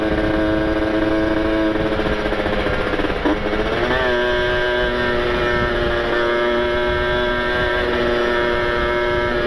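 A Kawasaki Ninja RR two-stroke motorcycle with a rich, wet carburetor setting holds a loud, close, buzzing high-rev drone, briefly dropping and surging around the middle before settling into a steady scream.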